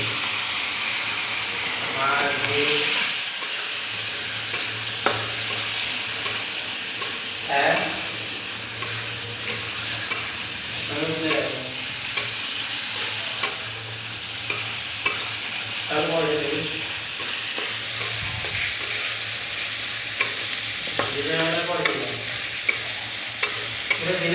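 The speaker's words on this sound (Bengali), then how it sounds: "একটু হালকাভাবে জল দিয়ে দেবো, দিয়ে মশলাটা কষিয়ে নেব।" Masala is fried and stirred with a splash of water, producing a loud steady sizzle broken by repeated rhythmic scraping strokes of a spoon against the pan, several times over.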